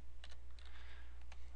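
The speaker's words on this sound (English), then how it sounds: "we're finished typing these values in." Keys clatter on a computer keyboard during spreadsheet data entry, with a few quick, light taps in short clusters over a low, steady room hum.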